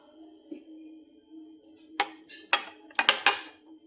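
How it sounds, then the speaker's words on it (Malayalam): A cooled homemade sweet dish is stirred and tipped from its pan into a bowl, giving a few sharp clinks and scraping clatters of utensil on metal close by, bunched near the end over a faint steady hum. "തയ്യാറാക്കിയ ഡിഷ് തണുത്തു നമുക്കത് ഇളക്കിയിട്ട് ഒരു പാത്രത്തിലേക്ക് തട്ടി"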